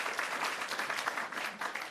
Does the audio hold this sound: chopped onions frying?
no